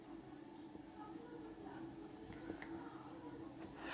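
Pen or pencil strokes scratch faintly and continuously as an answer to a maths exercise is written out, quiet and close over a low background hum.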